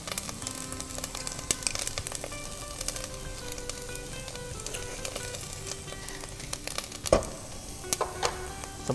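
Ground ginger and garlic cloves sizzle steadily in a hot pan, a continuous crackling frying hiss with occasional stirring scrapes and a sharper clatter near the end.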